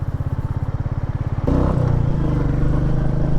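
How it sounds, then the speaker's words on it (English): A Royal Enfield Meteor 350 motorcycle has its front brake applied, with a steady rhythmic single-cylinder engine thump that shifts into a louder, rougher engine note partway through, close and loud with no talking. "Let us try the front brake now."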